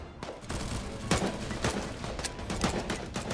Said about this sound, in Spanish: Le di bastantes tiros.